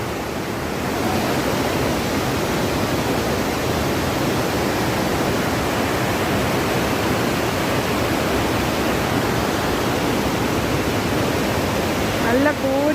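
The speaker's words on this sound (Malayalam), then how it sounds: "കാരണം വെള്ളം നല്ല കുത്തൊഴുക്കുള്ള വെള്ളമാണ്." A strong torrent of water rushes among huge boulders at a beauty spot in Malappuram district. It makes a loud, steady, broadband roar close by, with a brief voice near the end.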